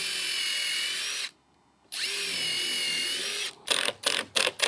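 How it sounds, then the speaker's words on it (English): A power drill bores through a deck support bracket and drives 3-inch screws into it. Two long, steady, close whines are split by a short pause, then a run of quick start-stop bursts follows. "Now we're gonna pre-drill through these 2 holes and add 2 3-inch screws to each side."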